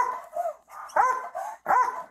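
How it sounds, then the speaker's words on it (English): A police dog barks in three loud, close bursts, each a sharp run of barks with brief pauses between, during a police search for a suspect. "Ah havladı."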